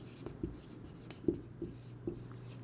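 A pen scratches across paper in a few short strokes with light taps between them, close and quiet, as an inventory entry for a pack of envelopes is written out during an accounting lesson.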